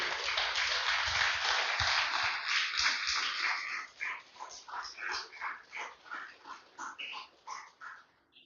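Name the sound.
congregation applauding for the Lord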